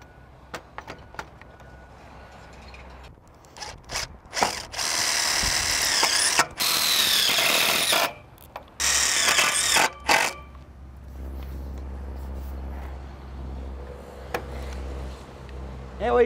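A clamp is ratcheted tight onto a Hebel PowerFence end cap, giving bursts of clicking and rasping mechanical turns, with quiet pauses in between.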